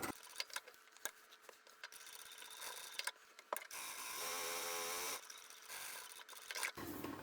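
A sewing machine triple-stitches up the side of a fabric tote bag, running in short bursts and one longer steady whir, with faint handling taps and rustles between runs.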